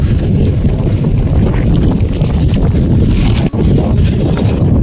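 Loud, gusty wind buffets the microphone in a constant low roar on Lingacha Dongar hill in the Sahyadri mountains, with one brief dropout partway through.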